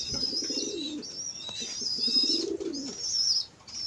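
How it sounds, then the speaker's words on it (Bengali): Pigeons in a pigeon house coo over and over in low, rolling phrases, while higher chirps and calls repeat throughout at close range, with no talking. "আমার কবুতরের ঘর।"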